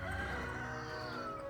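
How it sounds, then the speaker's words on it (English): Roosters crowing at a neighboring house, a faint, drawn-out call heard at a distance over steady background ambience. "And you can hear the roosters crowing at the neighbor's house."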